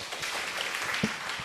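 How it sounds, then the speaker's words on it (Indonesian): An audience at a question-and-answer talk with Gede Prama claps. The applause is a brief, fairly faint patter of many hands lasting only a moment. "Tepuk tangan dong."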